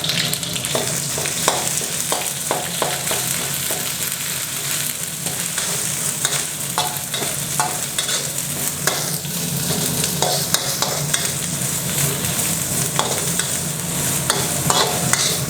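Thai chili curry paste stir-frying in oil over a charcoal stove for a spicy field-rat stir-fry, a steady close sizzle with repeated scraping stirs throughout, no voices.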